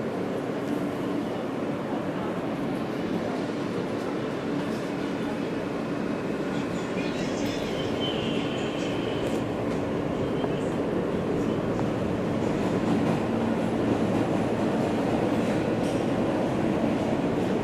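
A New York City F local subway train rumbles along continuously, a loud steady roar of wheels and car noise with a faint squeal partway through, recorded from inside the moving car.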